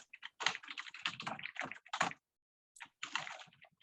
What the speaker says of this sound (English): Is that Brad typing away with minutes that are longer than we'd ever want